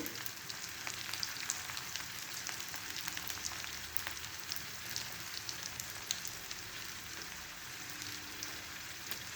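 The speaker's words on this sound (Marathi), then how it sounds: "आपण याला हलवून घेऊया" Potato chutney with salt and red chili fries in a pan, making a faint, even crackling sizzle that runs steadily throughout, quiet and without talk.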